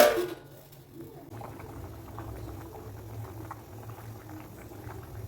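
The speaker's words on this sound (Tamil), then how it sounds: "எவ்வளோ சூப்பராக கொதி வருதுன்ட்டு" Avaraikkai puli kuzhambu, a broad bean tamarind curry, boils in a pot with a steady low bubbling and soft patter that stays even and close throughout.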